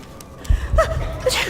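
A character in the video game Dishonored gives one short, sharp sneeze, heard close and alone against a quiet background.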